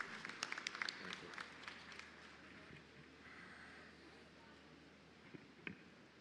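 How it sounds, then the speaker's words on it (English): An audience applauds at a conference on re-imagining cities as growth centres for Uttar Pradesh: sharp, scattered claps at the start give way to a softer, steady wash of clapping from a hall. "Big round of applause, ladies and gentlemen."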